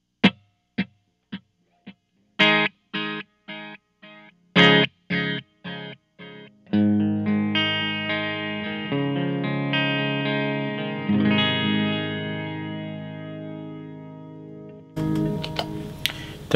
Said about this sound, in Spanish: Ahora tengo el timeline en Data 8 y suena así.